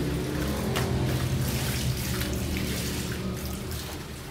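Water from a hose runs and overflows into a basin during hand-washing of laundry: a continuous, close splashing gush with little bursts of spatter, easing off slightly toward the end, with no talk.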